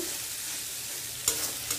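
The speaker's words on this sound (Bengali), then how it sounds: "এখন এই মশলার ভালো করে কষাবো" Gentle sizzling of spices being sautéed in a pan, with a couple of quick scraping stirs near the end, quiet and close.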